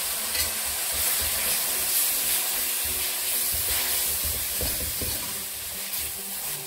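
Vegetable curry masala sizzles loudly in a pan after a splash of water is added, a dense steady hiss and steamy crackle lasting several seconds with faint stirring scrapes and no speech.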